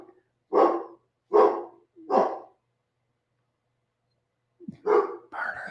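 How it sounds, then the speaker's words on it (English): A pet dog barks three times in quick succession at close range, then after a pause lets out two more barks, the last one shorter and higher; no talk is heard. "Man, that dog is a lot to deal with from time to time."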